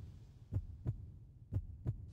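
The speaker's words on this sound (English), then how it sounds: "Also, that's a heartbeat." A heartbeat in the video game Kileak: The DNA Imperative, heard as two pairs of low, thudding lub-dub beats over a steady low hum, close and clear.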